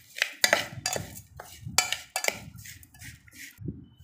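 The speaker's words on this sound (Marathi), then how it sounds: "आता मिश्रण छान असं एकजीव करून" A metal spoon stirs dry Malvani-style bhel mixture with chopped coriander in a bowl, making sharp, close scraping clinks against the bowl in an irregular rhythm with no talking.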